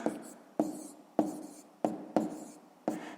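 A pen writing numbers by hand on paper, six short scratchy strokes at a steady pace, each starting sharply and fading, close and fairly quiet, with no talk.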